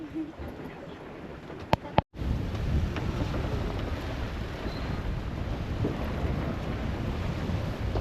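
Wind rising at sea aboard a sailboat crossing from Gibraltar toward the Canary Islands, a loud, steady broadband roar with rumbling buffeting on the microphone after a brief sharp knock.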